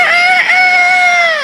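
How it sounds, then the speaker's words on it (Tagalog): A rooster crows once, loud and close, a long drawn-out cock-a-doodle-doo that holds steady before trailing off at the end. "Mahilig tumilaok at manggising tuwing umaga."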